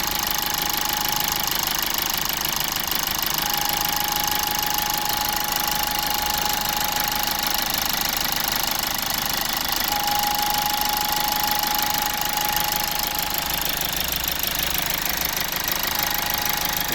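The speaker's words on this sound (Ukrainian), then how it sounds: "Так, робота двигуна." A 2012 Toyota Verso 2.0 D-4-D diesel engine idles steadily with an even, continuous knocking rumble that stays constant throughout, heard up close with no talking.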